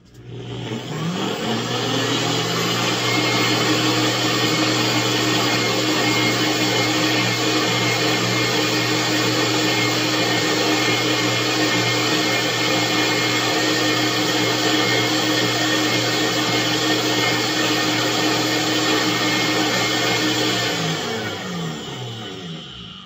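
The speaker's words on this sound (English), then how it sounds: "we bring our mixture and we mix it" A mixer blends a spirulina and aloe facial cleanser mixture. Its motor whirs steadily and loudly for about twenty seconds, spinning up at the start and winding down at the end.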